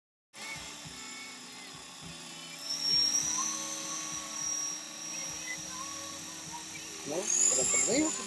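A 450 size RC helicopter flying, a steady high-pitched rotor and motor whine that rises and falls in pitch, heard close and fairly loud while people talk over it.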